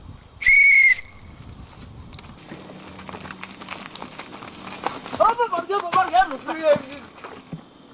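A single short, shrill whistle blast rings out early at a police checkpoint in a comedy drama, followed by people talking and shouting.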